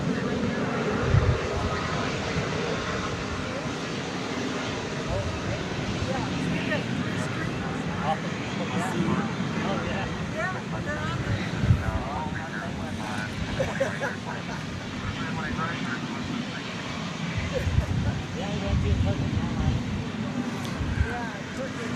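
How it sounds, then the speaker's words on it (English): An American Airlines jet departs DFW Airport at night with a steady, distant engine roar that holds throughout at moderate level. Talk runs over it. "American Flight 1162 to Ontario Airport in California is on its way"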